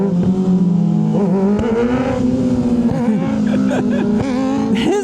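Two Kawasaki Ninja 636 sport bikes rip along together, engines revving hard and loud with rising and falling pitch throughout, a rider's voice faintly mixed in.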